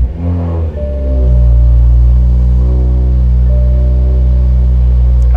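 A Toyota GR Supra engine starts after an ECU flash back to the stock file: a brief cranking, then it catches and settles into a loud, steady, close idle rumble.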